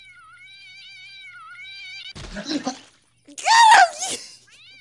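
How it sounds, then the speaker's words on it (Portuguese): Cats meow and caterwaul in the Postal 2 video game as they rain from the sky: a run of wavering meows, then a burst of clatter, then a loud yowl. A man briefly exclaims over the game sounds. "tem gato caindo do céu!"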